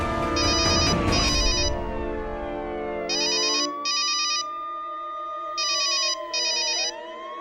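A phone rings in repeated paired electronic trills, two bursts at a time in a regular pattern, while a siren-like swooping tone and dramatic music play underneath.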